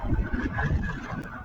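Strong wind at the seaside on Camiguin, a close, blustery rumble buffeting the microphone with a steady roar underneath, no clear speech.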